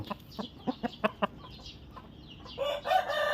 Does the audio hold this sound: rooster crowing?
yes